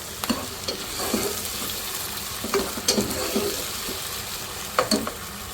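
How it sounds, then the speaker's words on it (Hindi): Chopped tomatoes hit garlic and ginger frying for chicken pulao, giving a steady sizzle broken by several scraping stir strokes and light clatters, close and without speech. "थोड़ी देर भूनने के बाद इसमें मैं डालूँगी 2 दरमियाने टमाटर चॉप किए हुए।"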